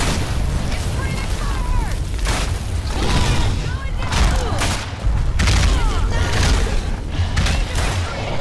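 Rapid bursts of gunfire and booming blasts from the Evolve video game, loud and dense, running continuously under a player's talk.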